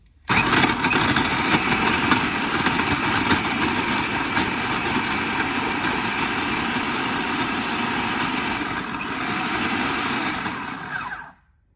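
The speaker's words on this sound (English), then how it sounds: "we're going to switch it on, and the blade is going to spin around and cut the bread into small pieces" A food processor blade whirs steadily as it chops bread into breadcrumbs. The motor sound is loud and continuous for about eleven seconds, then cuts off abruptly, with no talking.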